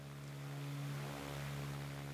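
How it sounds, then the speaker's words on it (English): Aircraft engine in the Ground of Aces WW2 aerodrome video game, a steady droning hum with a constant low pitch, faint and continuous, with no talk. "No, I can hear the engine."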